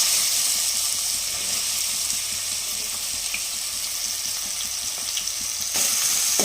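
Onions sizzling in a pan with crushed cinnamon and cloves for mutton curry, a steady loud hissing fry that runs unbroken and close, with faint stirring underneath.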